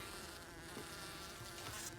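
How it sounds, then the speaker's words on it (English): A dense, steady buzzing of many Carniolan honey bees at a February hive inspection fills the air, continuous and close, with no voices. "They're very nice mellow bees."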